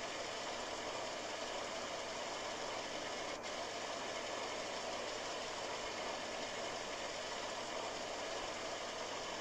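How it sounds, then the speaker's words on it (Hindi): A running electrical generator in the video game Delivery From The Pain hums and drones steadily, a constant close mechanical engine rumble with no pause and no talk. "this must be the generator, yes yes yes this is the generator"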